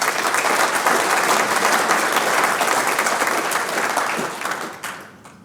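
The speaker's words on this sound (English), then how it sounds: "So a big round of applause for the big fella." An audience at a country day event breaks into loud, dense applause that holds steady for several seconds before tapering off at the end.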